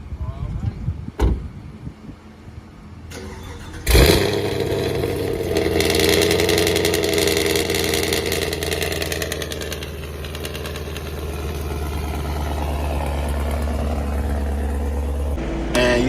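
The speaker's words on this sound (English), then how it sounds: "we about to give you guys a nice little cold start" A 2022 Camaro SS 1LE V8 cold start: a few clicks and thumps, then the engine catches with a sharp loud flare and settles into a high, steady fast idle that carries on, close by.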